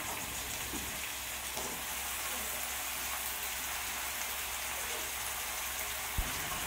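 Cut brinjal pieces sizzle in a hot pan with a steady, fine crackle, soft and continuous, broken by a faint clink near the end.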